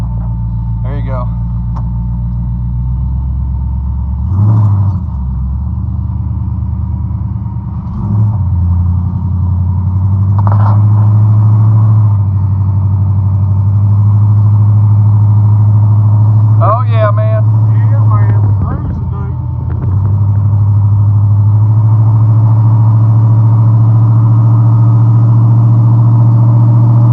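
A supercharged 1955 Chevy engine idles and runs with a deep, steady low rumble throughout a test drive, swelling in brief revs, close and loud, while people talk over it.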